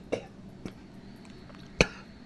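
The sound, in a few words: coughing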